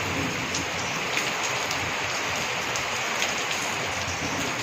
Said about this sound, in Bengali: ভালোই জোরে বৃষ্টি আসলো এবার।